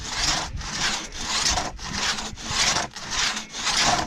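A handsaw cuts through a log on a trail in steady back-and-forth strokes, about seven rasping pulls in a loud, close rhythm with brief pauses between strokes and no talk.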